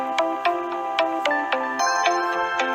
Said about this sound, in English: your computer starts ringing